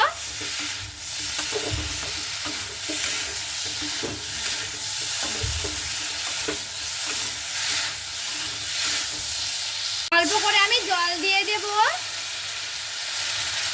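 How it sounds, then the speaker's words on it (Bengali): Raw green banana and potato stir-frying in a pan, with a steady loud sizzle and regular scraping stirs. Near the end a sharp whistle-like tone rises briefly over the frying. "কলাটাকে দিয়ে আর সেই আলুটাকে দিয়ে খুব ভালো মতো করে আমি কষিয়ে নেব"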